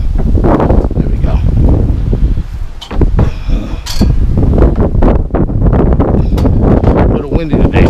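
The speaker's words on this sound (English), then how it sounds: "A little windy today," Gusty wind buffets the microphone outdoors at a scrapping spot, with loud low rumbling bursts that come and go across the clip while someone speaks over it.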